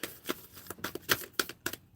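Tarot cards are shuffled by hand in a quick series of crisp riffling bursts, close and fairly quiet, with short pauses between the shuffles and no talking.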